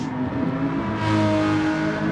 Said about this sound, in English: So it's now trying to overtake the Aston Martin Vantage GT3 of Rohan Raj.